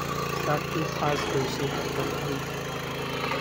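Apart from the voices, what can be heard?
small tractor engine running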